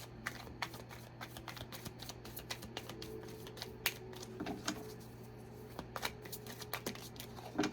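Tarot cards being shuffled, a steady run of soft papery riffles and flicks close by and quiet, over a low constant hum.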